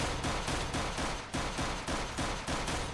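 Rapid bursts of gunfire in the video game Minecraft, a dense, loud continuous volley with short regular pulses and no talk.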